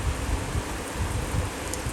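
Steady rain falling in early June at a rural home with a garden, a dense, even hiss with a soft low rumble that holds at the same level throughout, with no voices.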